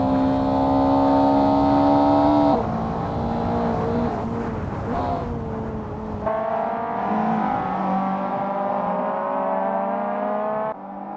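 Mazda Eunos Roadster touring cars race in Assetto Corsa, loud engine whine rising and shifting through gears as several cars rev and pass close together.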